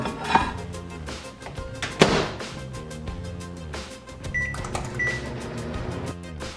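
A microwave oven cooking a sweet potato protein cake gives a steady hum with a few thumps and clunks early on and a couple of short electronic beeps later, close by.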